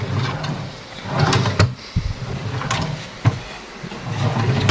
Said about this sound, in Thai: อันนี้ก็เป็นลิ้นนชัก รางล้อนะสีขาว ทั่ว ๆ ไปนะ